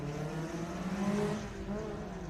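Number 109 Mazda Miata autocross car starting a run at Daytona, engine droning and revving with shifting pitch at a middle distance, continuous and alone without voices.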